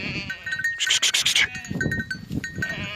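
Sheep bleat on a farm, several loud, close calls overlapping in a burst near the middle, with shorter bleats before and after and other flock noise around them.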